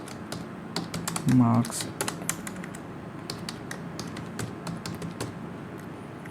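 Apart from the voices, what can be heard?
typing marks on a computer keyboard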